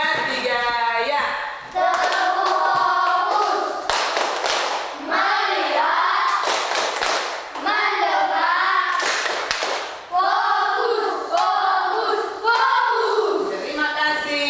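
A school class claps hands together in bursts, several rhythmic rounds of clapping mixed with loud voices chanting and a teacher speaking between them.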